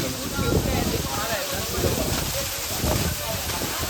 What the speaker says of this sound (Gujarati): મિત્રો ઉપરથી ધોધ પડે જો